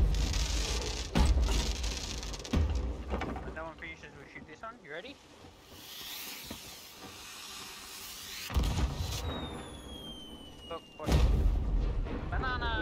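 Fireworks launch and burst in a pirate video game, several loud booming blasts with hissing, whistling trails between them, while people talk excitedly over the noise.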